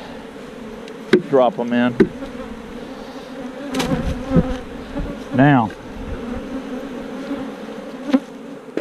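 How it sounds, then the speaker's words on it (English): Honey bees buzz around a hive lid during a March honey harvest, with close droning passes and someone speaking briefly between the buzzing bursts. "Got bees all over this lid here."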